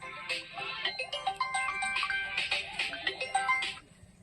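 A mobile phone ringtone plays a bright, repeating melodic tune at moderate volume for several seconds, alone without talking, then stops.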